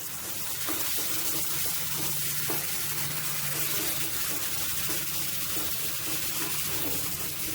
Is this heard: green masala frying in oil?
yes